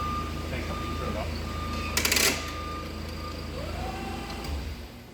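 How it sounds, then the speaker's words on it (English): Forklift backup alarm beeping while the truck reverses during a pre-use inspection, a steady tone over a constant engine idle with a brief clattering burst midway. "Our backup alarms are working"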